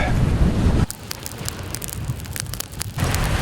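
Strong wind blows outdoors at a remote northern campsite, hitting the microphone in loud rumbling gusts with a calmer lull in between.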